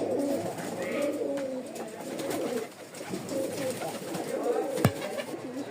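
Pigeons coo repeatedly at close range in a Rajshahi pigeon market, soft throaty calls rising and falling in overlapping phrases, with a sharp click near the end and faint background murmur.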